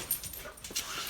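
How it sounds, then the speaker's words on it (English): A small puppy gives soft, brief whimpers and yips at close range, scattered through a short stretch with faint room noise around them. "You little cutie puppy, come here."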